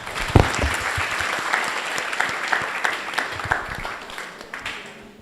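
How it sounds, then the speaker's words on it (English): Audience applause fills the hall after a general lecture on Rafflesia biology and conservation, a steady burst of many hands clapping that starts strong and slowly thins out over five seconds. "And please give applause for the speaker and for you all."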